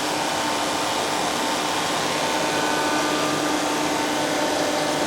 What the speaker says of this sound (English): My induction setup.